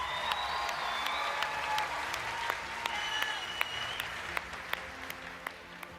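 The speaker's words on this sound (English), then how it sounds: "Give another round of applause to Cow Butt Crunchies!" Steady applause fills a cosplay contest hall at TwitchCon 2017, a dense wash of clapping with a few sharp isolated claps standing out near the front.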